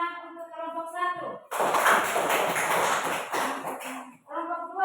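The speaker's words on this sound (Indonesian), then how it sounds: "kita tepuk tangan untuk kelompok 1" A classroom audience claps for a student group, a burst of dense applause lasting a couple of seconds, framed by a voice speaking before and after.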